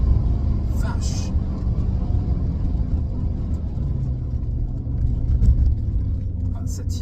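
A Porsche 928 GT rolls along the road with a steady low engine and tyre rumble close by, continuous for the whole stretch while faint voices come and go above it.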